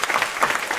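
An audience at a talk applauds a young woman who has just spoken, a brief dense burst of many hands clapping at an even level.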